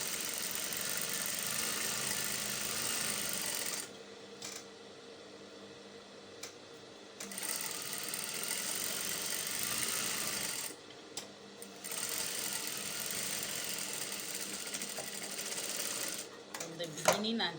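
A sewing machine stitches a lining onto the hem of a wrap blouse back piece, running in several steady bursts with brief pauses between them, fairly quiet and close.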